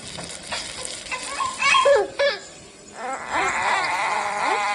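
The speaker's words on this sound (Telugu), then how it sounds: "టమాటా అంతా బాగా ఉడికి ఒక మంచి గ్రేవీ లాగా వచ్చే వరకు అయితే ఉడికించుకోవాలి" Tomatoes cook down into gravy in a pan, giving a continuous sizzle with stirring scrapes, while a high, wailing, cry-like voice rises over it in bursts.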